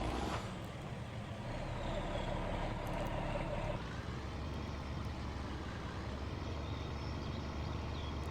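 A truck hauling a trailer with a tractor aboard idles and creeps into position on an Iowa farm, giving a steady, close diesel rumble with no break and no voices over it.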